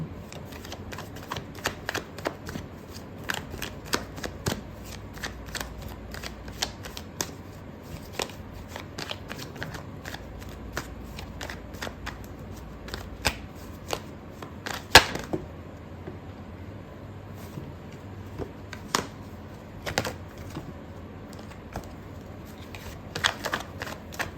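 Tarot cards being shuffled and handled in a quiet room, a steady run of soft riffling and slapping with sharper snaps now and then, close and fairly quiet, with no talking.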